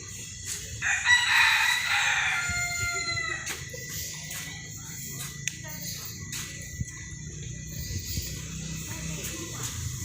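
Chickens at a Buddhist temple, Wat Phrai Phatthana in Phu Sing, Sisaket, Thailand, with a rooster crowing once near the start over steady outdoor ambience and scattered clucks.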